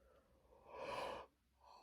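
A single tired yawn, a breathy drawn-out exhale swelling for about half a second and then fading, close and quiet, late at night indoors.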